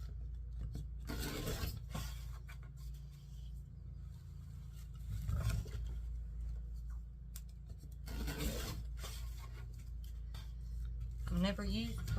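Scissors cutting through wreath mesh in a few separate bursts of rough snipping and rustling, close and fairly quiet, with a low background hum.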